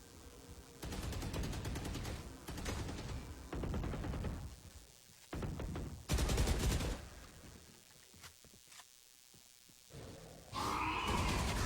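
Bursts of rapid gunfire from a shooter video game come in several loud volleys separated by brief quieter gaps, with game sound effects between the shots.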